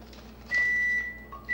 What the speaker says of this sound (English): that's my timer for something else that's in the oven